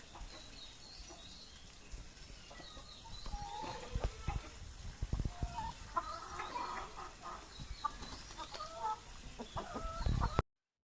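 Chickens cluck and squawk in scattered bursts, several birds close by in a home poultry coop, with a busy barnyard murmur underneath and no talking.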